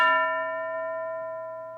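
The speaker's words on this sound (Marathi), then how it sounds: "घंटा वाजली की एकाने उभं राहायचंय" A single classroom bell strikes once with a clear, close metallic ding, its bright ringing tone fading slowly over about two seconds with nothing else heard.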